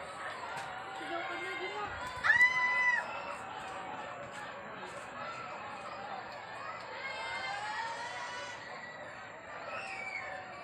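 Neighbors in a residential area during a brownout under quarantine cry out and cheer as the power comes back, a diffuse crowd of shouts and chatter with a brief louder burst early on, heard at a distance.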